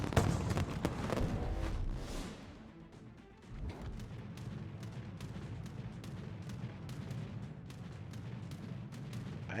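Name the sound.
battleship guns firing in a naval video game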